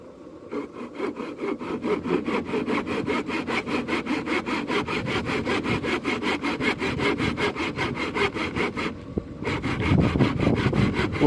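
Handsaw cutting wood along a marked line, a steady rapid rhythm of close rasping strokes that pauses briefly near the end and then resumes harder.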